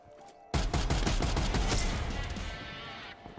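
Rapid bursts of DMR 14 rifle fire in a video game crack out loud and close, a dense volley of shots that fades into a lingering tail.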